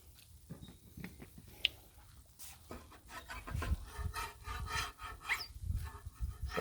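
Leftover caramel chocolate chunk cookies are scraped off a griddle that has been switched off. Quiet, uneven rubbing and scraping strokes grow busier and denser toward the end.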